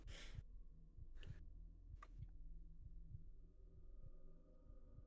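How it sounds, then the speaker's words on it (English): Slow, steady heartbeat thumps looping as a video game soundtrack in an enclosed underground setting, low and rhythmic with a soft pulse roughly every second, joined by a few brief airy swells near the start. "heartbeat sound track is like it's getting to me"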